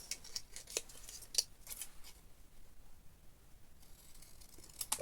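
A cardboard panel being trimmed along its score line: a quiet run of crisp, close cutting snips and scrapes, denser at first and then sparser, with no one talking.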